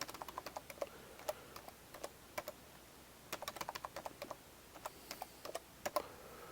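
Keys clatter on a computer keyboard as a new password is entered during Raspberry Pi setup, with quick irregular bursts of soft taps and short pauses, fairly faint in a quiet room with no talking.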